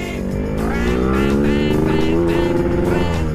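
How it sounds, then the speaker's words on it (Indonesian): A Yamaha RX-King two-stroke motorcycle engine revs loudly and continuously close by, its raspy pitch climbing and falling through repeated throttle blips. "Itu dia tuh khasnya motor 2 tak."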